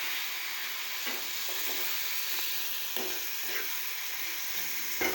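Fish curry masala with turmeric sizzles and fries in a pan while being stirred, a steady close hiss with soft scraping strokes throughout and no talking.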